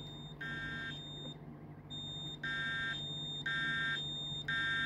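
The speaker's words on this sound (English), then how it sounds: "This is the BG10 police alert alarm." A repeating electronic BG10 police alert alarm in Roblox pulses on and off in steady cycles, shrill beeping tones looping at an even pace, fairly close.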